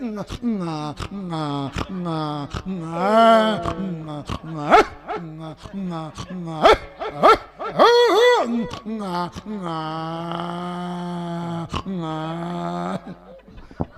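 A person repeatedly mimics a dog's barking with a rhythmic series of sharp woofs, interspersed with chuckles and laughter.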